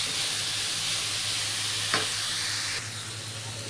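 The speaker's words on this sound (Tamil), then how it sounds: "இது கொஞ்ச நேரம் ஆயிலில் ஃப்ரை ஆகட்டும்." Cabbage and onion filling for stuffed dosa frying in oil, a steady close hiss of sizzling with a brief stirring scrape partway through, then slightly softer.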